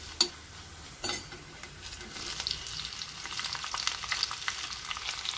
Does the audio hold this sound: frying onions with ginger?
yes